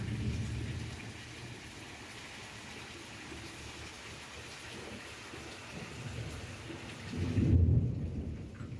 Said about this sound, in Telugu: వర్షం పడిందండి, మామూలుగా పడలేదు, బీభత్సంగా అయితే పడింది